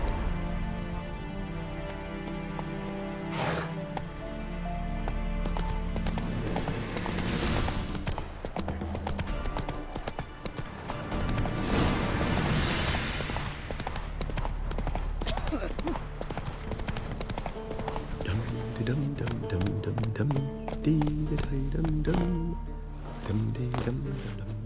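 Roach the horse galloping in The Witcher 3, steady rhythmic hoofbeats running throughout amid game music and effects, with brief spoken urging.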